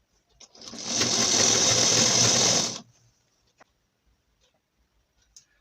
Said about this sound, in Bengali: এইভাবে ধরে ধরে পুরোটা সেলাই করে নেব